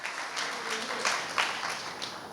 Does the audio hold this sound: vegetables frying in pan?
no